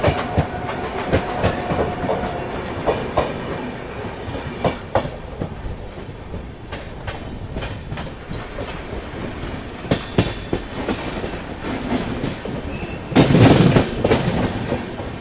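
Goa Rajdhani Express rolling along the tracks near Vadodara, a steady rumble of railcars with rhythmic clickety-clack of wheels over rail joints, close and continuous, swelling into a louder burst near the end.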